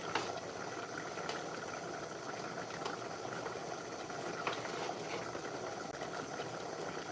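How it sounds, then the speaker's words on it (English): Rice boils steadily in a pot on the stove, a continuous close bubbling and hissing that runs the whole time with no voices. "our rice is boiling now"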